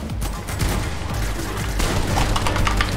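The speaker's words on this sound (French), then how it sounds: "Mais ça tire de partout en fait, je sais pas d'où ça tire." Rapid bursts of gunfire from a shooter video game crackle continuously, dense and overlapping with heavier booms, like shots coming from all directions for the full three seconds.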